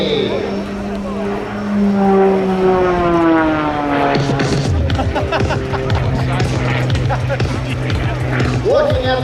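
An Extra Edge 540 propeller plane roars overhead at an airshow, its engine pitch sliding up and down as it swoops and turns in aerobatics, loud and close, while a voice talks over it.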